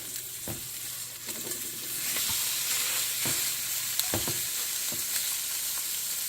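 An egg sizzles and fries steadily in a pan, a dense continuous crackle with a few soft scraping knocks from stirring, close up and with no talking.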